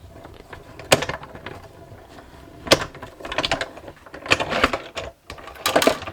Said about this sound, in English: these are going to cut and emboss at the same time, which is jolly good because the name of this machine is a cut and emboss machine